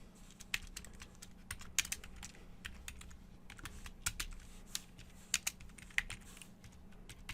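Computer keyboard keys clatter in quick irregular bursts during code entry for a Laravel PHP web project, close and moderately loud against a faint steady hum, with no talking.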